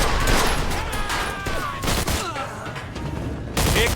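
Sustained gunfire from a shootout in the video game Mafia 2, dense crackling bursts running almost continuously at close range, with a brief lull before the shooting resumes.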